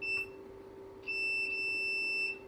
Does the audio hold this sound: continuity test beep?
yes